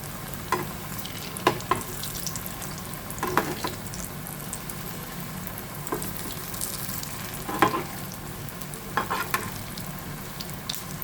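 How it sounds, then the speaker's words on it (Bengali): Fritters made with gram flour and poppy seed fry in oil, a steady soft sizzle throughout, broken every couple of seconds by sharp clacks of a utensil against the pan. "সুন্দর লাল লাল করে ভাজা হয়ে যাচ্ছে।"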